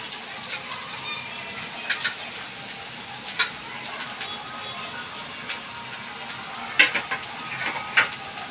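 An onion drops into hot oil on low heat for paneer bhurji, giving a steady crackling sizzle with small pops and a few sharper clicks toward the end, close and without talk.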